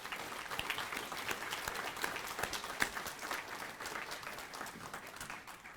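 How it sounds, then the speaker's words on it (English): Steady applause from an audience at a reunion gala fills the whole stretch, a dense patter of many hands clapping at a fairly constant level with a few sharper claps. "Let's give him one more round of applause."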